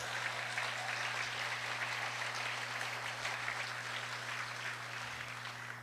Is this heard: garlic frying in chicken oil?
no